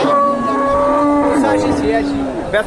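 A dairy cow moos in one long, loud, drawn-out call at a cattle sale in Bogura, close by, with a short bit of crowd noise at the end.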